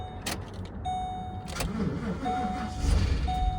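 A car engine cranks and catches on a third key, with a metallic rattle and jangling keys in the ignition; short clicks and warning chimes recur as it struggles, the rough running growing heavier toward the end.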